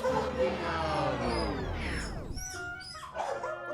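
A dog whimpering: thin, high whining cries rising and falling near the end, following a long sweeping tone, moderately loud and close.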